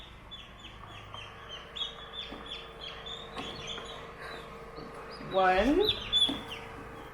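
Newly hatched chicks peep repeatedly inside an incubator, with high chirps throughout and a louder burst of peeping near the end, while a person speaks briefly.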